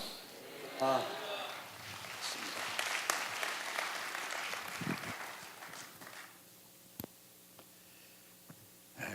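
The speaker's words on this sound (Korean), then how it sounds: "박수로 맞이해 주시기 바랍니다" A church congregation claps to welcome the senior pastor, a spread-out roomful of hands that builds and then fades over several seconds, leaving quieter room noise and a few isolated knocks and shuffles.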